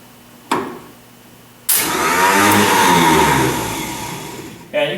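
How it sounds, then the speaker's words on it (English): A military surplus generator's starter motor, long unused, cranks as its faulty solenoid is jumped across the contacts: a sharp click, then a loud, close whirring grind for about three seconds that cuts off with another click. "now we're going to jump her across the contacts of the solenoid and see if we can get the starter motor to move"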